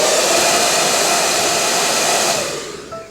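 A hair dryer blows hot air onto hairspray-coated hair roots, a loud, close, steady whooshing roar that holds for most of the time before tapering off near the end.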